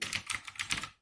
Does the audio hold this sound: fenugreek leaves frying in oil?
no